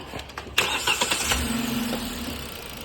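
A car engine cranks with a few quick clicks, catches, and settles into a steady idle, close and fairly loud, during an air-conditioning compressor check.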